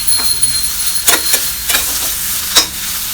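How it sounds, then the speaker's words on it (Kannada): Chopped coriander leaves frying with tomato masala in a pan, a steady close sizzle broken by several sharp stirring scrapes and hissy bursts. "ಇದನ್ನಷ್ಟೇ ಸ್ವಲ್ಪ ಹೊತ್ತು ಫ್ರೈ ಮಾಡ್ಕೋಬೇಕು. 1 ನಿಮಿಷ ಫ್ರೈ ಮಾಡಿದರೆ ಸಾಕು."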